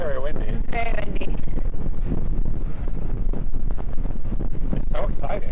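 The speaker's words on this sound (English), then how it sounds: "It's very windy." Strong wind buffets the microphone on the helipad of a cruise ship, a loud, steady roar that runs throughout under voices talking excitedly.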